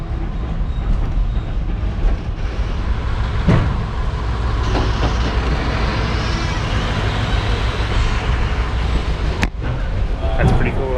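Kuranda Scenic Railway train creeping slowly along its track through a gorge, a continuous loud rumble with occasional metallic squeals and clanks, heard from on board with talking.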